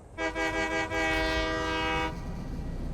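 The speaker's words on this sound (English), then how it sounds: "Here's our train, by the way, chat." A locomotive in the factory-building game Satisfactory sounds a loud, steady, harmonically rich horn blast lasting about two seconds, over a low rumble of rolling train noise.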